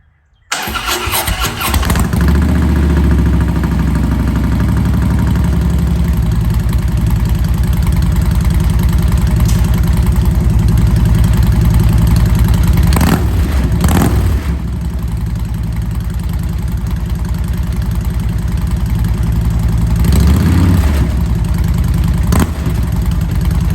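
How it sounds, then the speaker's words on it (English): A Harley-Davidson motorcycle engine cranks and fires up, then settles into a loud, steady, rumbling idle close by for about twenty seconds, with a couple of brief throttle blips along the way. "Man, I forget how freaking awesome this bike sounds."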